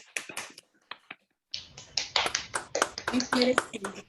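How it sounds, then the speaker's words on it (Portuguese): Crowd applause at a women's cluster session of the SBPO 2021 operations research symposium, a dense run of claps that builds from scattered hits into steady clapping, with voices talking and cheering throughout. "Uma salva de palmas, gente"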